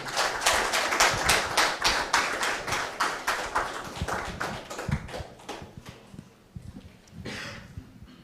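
An audience claps steadily at a kickoff meeting for the Kura Umenye project, a dense burst of applause that gradually thins out and fades, then swells briefly again near the end.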